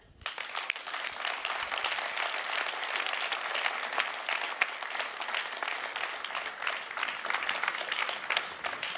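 A large summit audience applauds after a speech, dense, sustained clapping that swells in quickly and holds steady and loud for the whole stretch.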